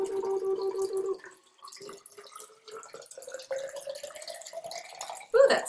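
Icy seawater trickles and drips through a filter, a thin pouring stream then scattered splashes and a rising gurgle as the container fills, close and fairly quiet.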